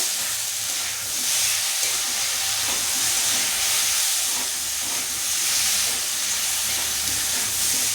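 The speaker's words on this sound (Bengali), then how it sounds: "এবার দিচ্ছি একটু লবণ দিয়ে ভালো করে মশলাটা কষিয়ে নেব" Spices and salt sizzle and fry steadily in a pan while being stirred for a meat curry, a continuous close hiss with no talk.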